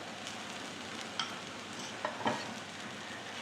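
Methi paratha roasting with ghee on a pan, a faint steady sizzle with a few soft taps of a spatula.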